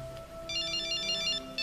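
A mobile phone ringtone plays a repeating electronic tone pattern, bright and fairly close, over a steady low background hum.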